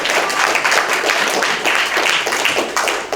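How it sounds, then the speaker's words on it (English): Audience at a Winter Park Toastmasters club meeting gives a big, sustained round of applause, dense, steady clapping from a room of people throughout. "All right, where's the applause?"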